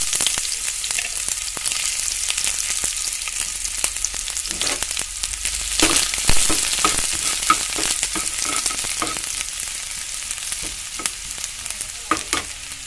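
Chopped onions fry in hot mustard oil for a simple Assamese recipe, sizzling steadily and loudly with scraping stirring strokes and crackling bursts throughout.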